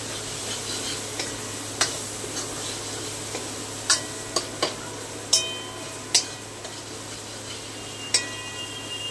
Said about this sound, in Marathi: त्याचबरोबर मी टाकणार आहे टमाटर। मिक्स करून घेऊया।